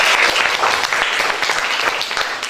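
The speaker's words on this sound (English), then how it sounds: "Give applause to him." Applause from a high school English class, a dense steady patter of many hands clapping close by that fills the whole short stretch without a break.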